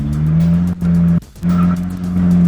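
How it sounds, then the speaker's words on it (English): Car drifting with loud, sustained tire squeal, close and intense, broken by two short gaps as grip shifts and engine roar underneath. "So that's your simple drift entry to start with."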